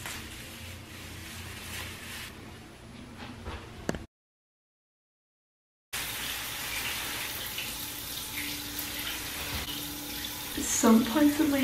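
Water runs steadily from a tap while bleach is rinsed out of hair, a close, continuous hiss and splatter broken by a brief gap, with some voice beneath the flow.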